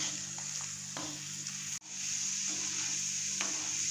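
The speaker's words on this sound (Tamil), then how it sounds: "இதை எண்ணெயில் சேர்த்துடலாம். இது நல்லா ஃப்ரை ஆகணும்." Cut pieces sizzle steadily in hot oil for a Tamil kuzhambu, with occasional soft utensil clicks from stirring and one brief dropout midway; no talking.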